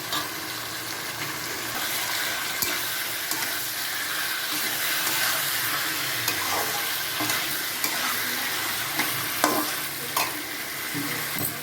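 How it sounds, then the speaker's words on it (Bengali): Meat frying in a pan with salt, turmeric and sour yogurt, for a chicken korma-style dish, makes a steady close sizzle with stirring scrapes and small pops throughout, with no voices. "মাংসটা এবার দিয়ে দিলাম, নুন হলুদ আর টক দই।"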